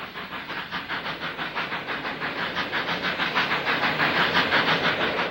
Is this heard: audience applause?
no